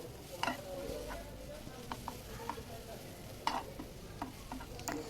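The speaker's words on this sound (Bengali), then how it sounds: "এখন ঝুরঝুরো করে আমি খন্তার সাহায্যে ঝুরঝুরো করে তারপরে ডিমটা ভাজি করে নামিয়ে নেব।" Scrambled egg frying in a pan and broken up with a spatula, a soft steady sizzle under repeated scraping strokes at an uneven rhythm, close and fairly quiet.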